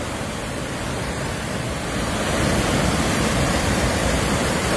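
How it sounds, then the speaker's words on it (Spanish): A river in the Dominican Republic, swollen with water during a tropical storm, rushes in a dense, continuous roar that grows slightly louder after the first two seconds, with no voices. "el río, parece que está bien harto de agua."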